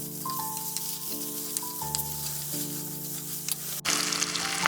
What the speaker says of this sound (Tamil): தக்காளியை வந்து இதில் ஆட் பண்ணிடலாம். இதையும் வந்து நல்லா வதக்கிக்கலாம்.